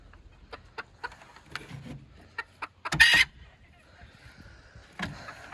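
A young rooster and chickens cluck nearby in short, scattered calls, with one louder, harsher call standing out midway through.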